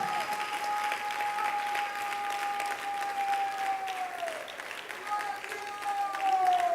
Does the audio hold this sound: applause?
yes